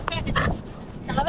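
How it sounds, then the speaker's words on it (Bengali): A dog gives a couple of quick, close barks alongside a horse on Inani Beach in Cox's Bazar, with a person talking over the barks. "ঘোড়া কুকুর একসাথে"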